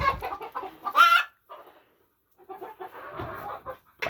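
Chickens cluck and murmur close by in a morning coop, in short bursts of chatter broken by a brief quiet pause before the clucking resumes.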